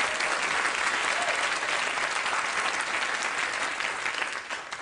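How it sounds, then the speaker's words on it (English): Applause from a late-night talk show studio audience, a steady, dense clapping that stays full throughout and eases slightly toward the end. "You people applauded."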